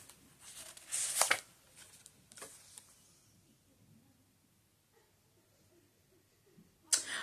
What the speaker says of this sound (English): all I'm going to do is I'm just going to kind of shuffle these